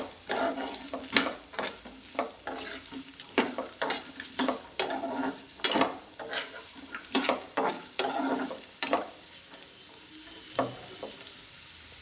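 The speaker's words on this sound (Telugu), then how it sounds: "క్యారెట్ ముక్కలు వేసాక బాగా కలుపుకుందాం." Carrot pieces are stirred and fried in a pan for a carrot fry: a soft, continuous sizzle under repeated close scrapes and knocks of the spoon, with irregular stirring strokes throughout.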